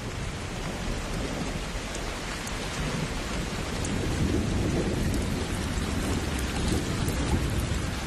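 Steady heavy rain with a deep rumble of thunder building in the background, continuous and enveloping, no voices.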